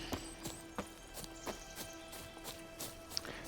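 Horse hooves clip-clopping in The Witcher 3, soft rhythmic thuds spaced about every half second at moderate distance, with faint ambient tones underneath and no talking.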